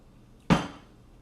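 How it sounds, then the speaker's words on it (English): A spoon strikes a glass of minty summer drink once, a single bright close clink that rings briefly and fades, alone in a quiet room. "Now I'm going to stir it up."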